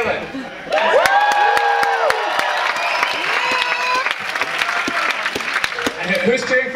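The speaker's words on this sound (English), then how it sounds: "Who is cheering for Caleb?" A live event audience at a rock-paper-scissors warm-up cheers, whoops and applauds loudly and continuously, with children's shouts and crowd voices mixed into the dense clapping throughout.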